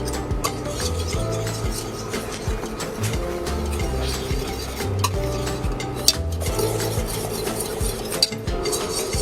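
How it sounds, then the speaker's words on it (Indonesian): Whisk or spoon stirring croissant dough in a bowl while egg mixture is slowly poured in, giving a steady rasping, rubbing scrape with occasional light clinks, close and continuous, without talk. "akan kita tuangkan perlahan sambil tetap diaduk"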